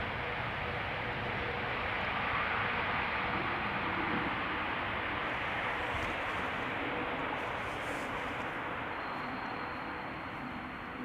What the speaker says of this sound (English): Hearing airplanes pass overhead